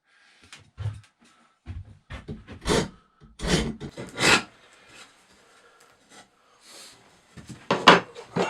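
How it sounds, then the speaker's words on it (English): A Nicholson woodworking rasp shaves down a wooden double-bit axe handle in a series of rough, scratchy strokes, some short and some longer, close up with brief pauses between strokes. "let's get the rasp on this and start to shave her down a bit"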